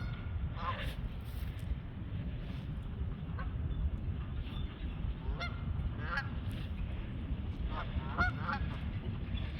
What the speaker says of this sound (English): And there's the other Canadian geese.